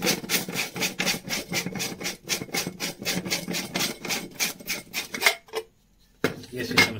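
A plastic flashlight casing with no screws is worked open by hand from the front, giving a dense run of rapid scraping, clicking plastic rubs that stop abruptly near the end, then a short burst of handling noise.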